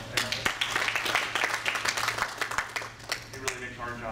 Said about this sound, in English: I'd like to give a round of applause to Tim.